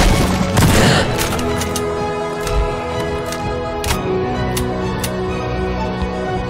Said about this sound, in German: ich habe nur noch einen Schuss